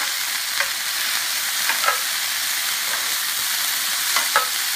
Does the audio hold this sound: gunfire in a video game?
no